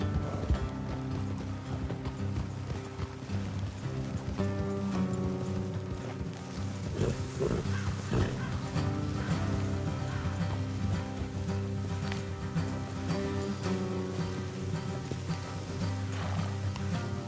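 Steady clip-clop of horse hooves on a hard road in the video game Red Dead Redemption 2 continues throughout, with a brief whinny and a constant backdrop of ambient sound.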